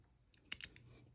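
Two quick, close snips of scissors cutting crochet yarn, quiet and crisp, spaced a fraction of a second apart.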